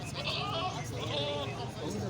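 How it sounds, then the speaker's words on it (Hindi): Several sheep bleat in overlapping, wavering calls at a busy livestock market in Taxila, close and fairly loud over a steady murmur of crowd babble. "ये कुछ और भेड़ें लाइन में खड़ी हैं, बड़ी खूबसूरत,"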